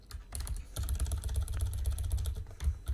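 Steady, rapid typing on a computer keyboard while entering a heading, a dense run of close keystroke clicks over a low background hum, with no talking.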